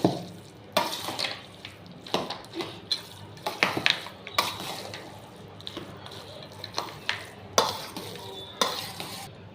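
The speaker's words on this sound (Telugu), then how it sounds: "ఇక నేను పల్లీలు వేపేసి ఉంచుకున్నాను ఇవి వేసుకుంటున్నాను" Roasted peanuts being stirred into curd rice in a pan make a steady run of soft scraping and clinking spoon strokes against the pan, close and fairly loud, with no talk.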